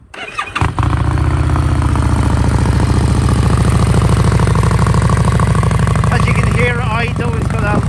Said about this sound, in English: Idle, it's got that lovely V-twin sound now.